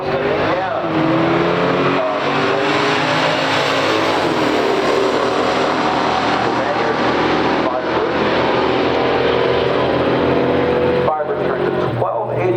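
A 1968 Firebird Ram Air II and a 1969 Dart GTS 340 race side by side in a stock drag race, engines roaring loud and sustained through acceleration, with announcer talk over the din.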